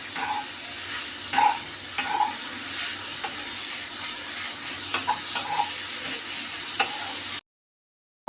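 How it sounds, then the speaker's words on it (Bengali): Grated carrots frying in ghee in a pan for carrot halwa, a constant moderate sizzle with several sharper scraping stirs and clinks, then a brief silence near the end. "ঘিয়েতে ভাজা ভাজা করে নেব"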